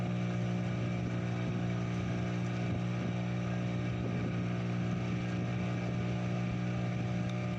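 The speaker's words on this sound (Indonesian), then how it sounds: "Kecepatan kapal speed ini teman-teman tidak cukup cepat ya." Speedboat engine droning steadily at close range while running along a river in Kalimantan, a constant loud hum with strong low tones and no talk over it.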